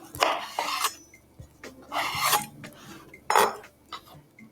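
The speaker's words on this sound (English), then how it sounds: "Cut each slice lengthwise into 1/2-inch strips." A knife slices vegetable slices lengthwise into half-inch strips on a cutting board, giving a few separate close scraping cuts and knocks with short pauses between them.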